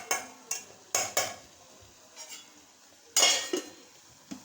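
Cooked Ponni rice being drained from a cooking pot in a small home kitchen, with a series of sharp metallic clinks and knocks of pot and lid, a few close bursts spaced irregularly and a longer rushing clatter near the end.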